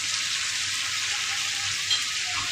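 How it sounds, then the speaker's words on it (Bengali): Potatoes fry in a pan with a steady, even hiss of sizzling oil, close and continuous, with a faint clink and no talking. "যে আলু ভাজি করছি"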